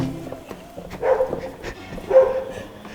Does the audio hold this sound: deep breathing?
no